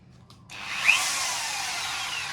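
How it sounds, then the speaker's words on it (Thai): An Enzo 710 W electric drill powered from a DA 1600 W 12 V pure sine wave inverter, running on low voltage, whirs up after a short quiet start and holds a steady, close, continuous high-pitched drone to the end. "ก็ใช้กับสว่าน ตัวใหญ่นี้ได้นะครับยี่ห้อเอนโซ710 วัตต์ได้"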